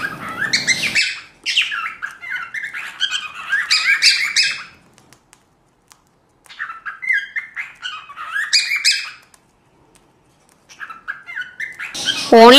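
Lovebirds chirp and squawk in rapid, bright bursts close by, in two long spells separated by short quiet gaps, with a final sharper call at the end.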